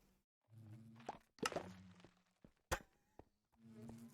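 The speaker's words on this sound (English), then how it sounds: "I like that they make like little popping noises as they shoot out of there" Minecraft bees popping out of a beehive in the video game, a series of short soft pops and thunks scattered across the clip, with faint ambient game sound between them.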